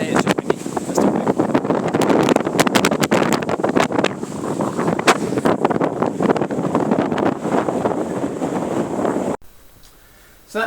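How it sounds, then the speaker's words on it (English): Steady wind roars across an exposed volcanic summit on Mount Nantai in Japan, a loud, continuous gusting buffet on the microphone that drops away abruptly near the end. "Today it's just windy, but still windy."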